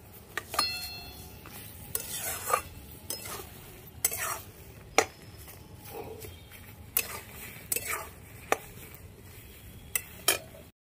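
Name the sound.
stirring cabbage paste in a pan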